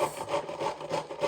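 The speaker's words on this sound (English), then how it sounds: "if you have such a big floret, you just hold it well and just grate it" Cauliflower florets grated by hand into rice, a dry rasping scrape repeating in quick, even strokes, close and alone.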